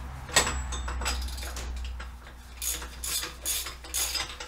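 A ratchet wrench works on rear brake parts of a 2011 Saab 9-4x XWD, with short bursts of metallic clicking and a few sharper clanks, close and moderately loud, without talk.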